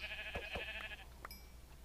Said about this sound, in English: Why, hello, Mr. Sheep.